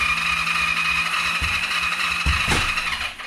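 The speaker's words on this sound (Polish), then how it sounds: "jakoś podejrzanie lekko kręci trochę ten silnik, ale to nic, próbujemy dalej" A Kawasaki ER5 motorcycle engine cranking after a long standstill, turning over lightly with no compression, giving a few uneven starter bursts near the end over a steady background hum.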